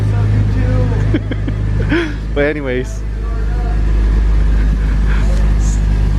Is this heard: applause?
no